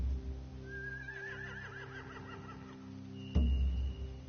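A horse whinnies in a long wavering call in a video game (The Walking Dead), followed by a sharp thud and a brief rumble, over a steady humming background.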